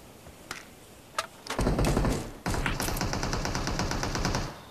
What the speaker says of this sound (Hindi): और देखो सामने से फायर भी आना स्टार्ट हो गया